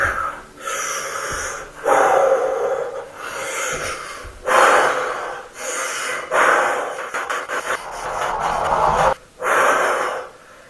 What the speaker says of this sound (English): All right, let's breathe.